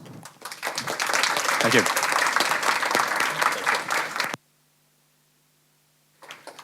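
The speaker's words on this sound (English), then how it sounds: "Let's give another warm applause." An audience at a PyCon JP conference talk applauds with sustained, dense clapping and a few voices mixed in. It cuts off abruptly to near silence, then a faint sound returns at the end.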